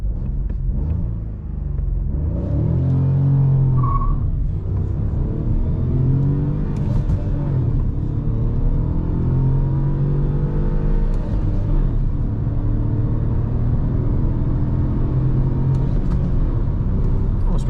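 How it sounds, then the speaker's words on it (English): Inside a 2024 Renault Clio with a 1.0 TCE 90 hp engine, driven at night, a steady, loud engine drone and road rumble rise and fall as it accelerates through gear changes. "So I'm driving automatic, so don't judge me if I missed a gear or I wasn't super fast with shifting."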